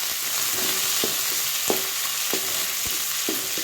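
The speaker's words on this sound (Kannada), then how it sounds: "ಫ್ರೈ ಮಾಡ್ತದ ಒಂದು 10 ನಿಮಿಷ ಫ್ರೈ ಮಾಡ್ತದ" Drumstick leaves (nugge soppu) frying in a pan, a steady broadband sizzle broken by periodic clinks and scrapes of a stirring spoon, close and fairly loud, no voices.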